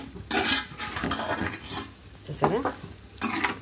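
A vegetable fry being stirred briskly in a hot pan, with spoon scrapes and soft sizzling that come in close bursts while someone talks over it.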